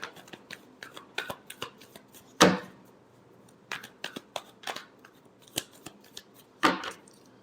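Tarot cards are shuffled by hand in quick, uneven bursts of crisp riffling and slapping, close and clear with no voices over them.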